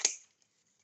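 Scissors make a single crisp snip up close, a short sharp cut that fades quickly into near silence.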